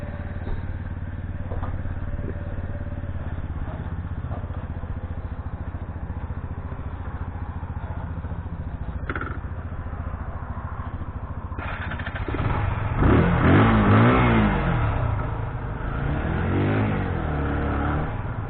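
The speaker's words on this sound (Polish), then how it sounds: "dzisiaj jadą dwa motocykle Zontes i Romet Soft" Two motorcycles, a Zontes and a Romet Soft, hum steadily while riding, then rev up and rise in pitch with louder, wavering acceleration toward the end.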